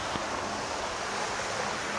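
Floodwater from the Great Miami River pouring through a flooded park, a steady broadband rush of moving water with some wind noise on the microphone, continuous and fairly close, with no talking.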